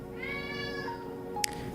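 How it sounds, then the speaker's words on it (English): A cat gives a single drawn-out meow that rises and then slowly falls, heard fairly close, with a brief faint click near the end. "I heard a cat there."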